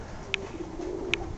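Racing pigeons coo softly in a loft, the low murmur running continuously under two brief sharp clicks, with no voices.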